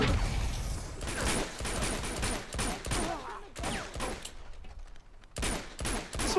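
Intense gunfight in Uncharted 2: Among Thieves during urban warfare, with loud, rapid bursts of automatic fire and single shots repeating in clusters, brief lulls between volleys, and no talk over it.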